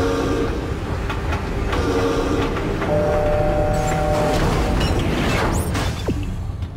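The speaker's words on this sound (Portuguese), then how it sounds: "Eita, o trem já chegou." A tram pulls into the station in the video game Dead Space 3, a continuous loud rumble of rolling wheels and machinery with metallic squeals and a rising whine near the end, no voices.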